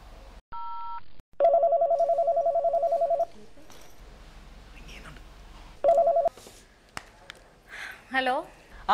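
A telephone is dialed for a call: a steady dial tone, then a long run of rapid DTMF keypad beeps, another short burst of tones later, with brief indistinct voices and rustling in between, fairly quiet.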